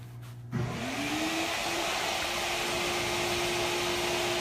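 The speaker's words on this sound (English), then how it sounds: "we're actually going to rinse the urine out of the carpet fully" A carpet extraction machine starts up with a sudden rising whine and then holds a loud, steady suction roar while rinsing pet urine out of carpet.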